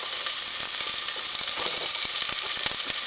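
Garlic, anise and celery fry in a pan with a steady, close sizzle and crackle, broken by small pops and stirring clicks throughout; nobody speaks.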